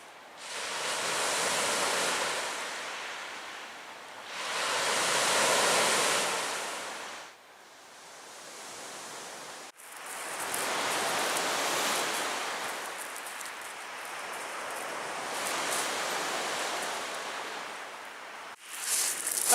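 Waves wash onto the pebble and rock shore of Lake Superior in slow, rhythmic surges, each one swelling loud and close, then hissing back to a quieter lull, with no voices.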